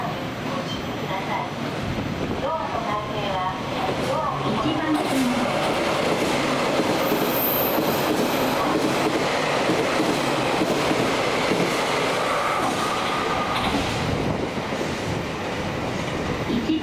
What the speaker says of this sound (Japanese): 1番線を列車が通過いたします。